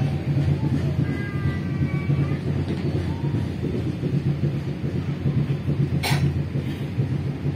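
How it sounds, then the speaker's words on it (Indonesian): A train pulling into Cikesal station rumbles steadily from inside the carriage, a constant low rolling drone with a faint squeal and a short sharp clack near the end. "sesaat lagi kereta api Anda segera tiba di stasiun Cikesal"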